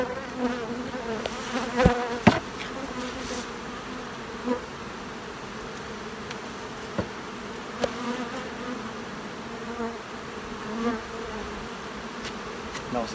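Honey bees buzz steadily throughout a beehive inspection, a dense, continuous hum with a few louder bee passes close by and occasional small knocks from handling the frames.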